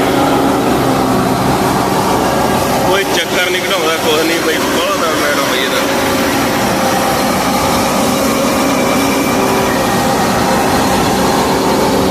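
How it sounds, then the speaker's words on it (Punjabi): A New Holland Workmaster 105 tractor engine drones steadily and loudly throughout, a low mechanical rumble with broadband noise that stays constant for the whole stretch. "ਵੇਖੋ ਟਰੈਕਟਰ ਨੂੰ"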